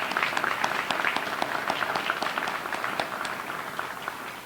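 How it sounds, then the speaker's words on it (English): A room at a deputy chief's retirement gathering breaks into a round of applause for the staff, with dense, sustained clapping from many hands throughout, close and steady. "I just want to give them a round of applause"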